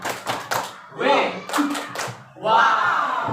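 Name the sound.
audience clapping in the 'tepuk wow' clap routine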